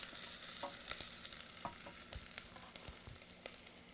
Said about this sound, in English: So this onion is now frying.